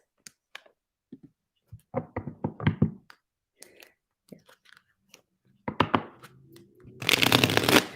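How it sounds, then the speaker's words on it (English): A flurry of dry papery flicks and riffles, a few sparse taps at first, then bursts of rapid shuffling that swell into a dense, close rustle at the end. "Let me shuffle the cards."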